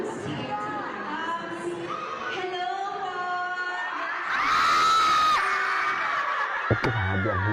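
A crowd at an awards event screams and cheers, with chatter and voices at first, then a loud swell of shrieking and whooping that fades out, followed by a sharp clap or thud.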